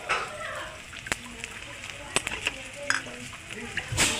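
A spice paste of ginger, green chilli and tomato with cumin, coriander and turmeric powders fries alongside a hilsa fish head for a pumpkin dish. A close, steady sizzle carries scraping, clattering stirs in a pan.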